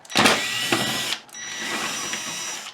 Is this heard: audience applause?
no